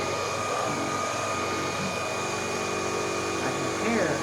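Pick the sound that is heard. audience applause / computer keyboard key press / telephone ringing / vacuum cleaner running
vacuum cleaner running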